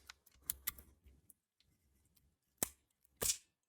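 A Tokyo Marui Gold Match Hi-Capa airsoft pistol's nozzle is cycled, giving quiet ticking clicks followed by two sharp, close mechanical clacks.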